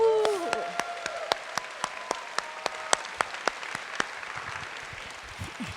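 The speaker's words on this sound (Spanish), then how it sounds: "¿Qué tal si damos un aplauso a Jesús?" A church congregation claps for Jesus at a revival session, sparse distinct claps ringing out one by one in a large hall, with a sustained tone fading early and quiet murmurs near the end.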